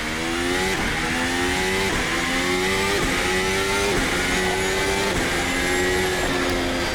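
A VRC Formula Temu 2026 race car at the Spa circuit in a racing game screams at high revs, climbing through repeated upshifts in a steady rhythm, loud and close with no talking.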